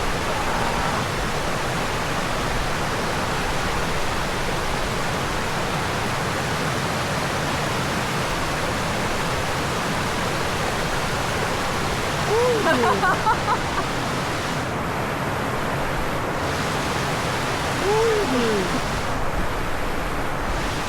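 A wild mountain river in Tusheti rushes in a loud, steady broadband roar that fills the whole stretch. Faint voices surface briefly beneath the water.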